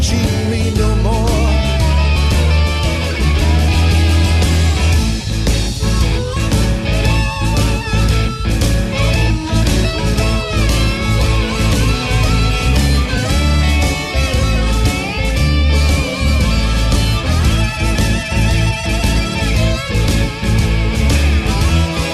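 A blues rock band track plays continuously for over twenty seconds, full and loud with dense guitar, bass and drums driving along and no break or talk over it.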